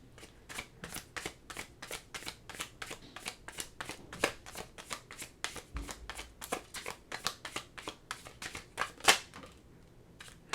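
A tarot card deck being shuffled, with rapid repeated crisp riffles and card flicks in a fast, uneven rhythm, close and clear, tapering off near the end.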